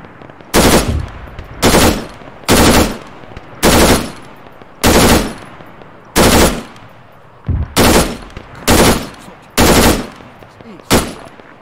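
Machine gun fire in the military game Arma 3, loud, close bursts of rapid shots repeating about every second with short pauses, one pair of bursts coming close together.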